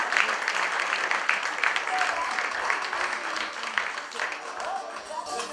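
Audience at a business awards ceremony in St. Lucia applauding steadily, a dense wash of many hands clapping for several seconds with a voice faintly underneath.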